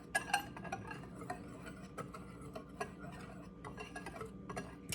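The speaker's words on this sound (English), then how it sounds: "So I'm just kind of stirring it up." Small whisk or fork clinking against a mug while stirring brownie batter, a quiet series of irregular taps and scrapes spread throughout, close and alone.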